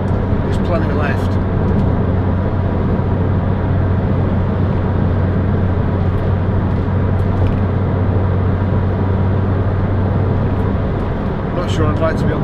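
A 2006 Toyota MR2 1.8 VVT-i roadster engine on a test drive at about 2,600 to 2,700 rpm, a steady close drone with road and wind noise throughout.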